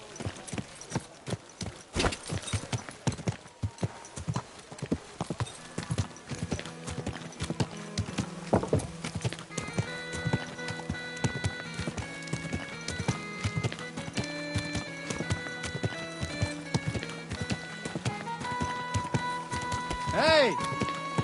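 Horse hooves clip-clop in Kingdom Come Deliverance, a steady, close rhythm of hoofbeats throughout, with game music tones and voices talking over it.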